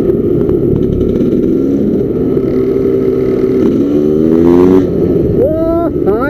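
A GASGAS CE250F motorcycle engine hums loudly and steadily while riding, its pitch climbing through a couple of rising revs near the end, with a rider's voice briefly heard over it.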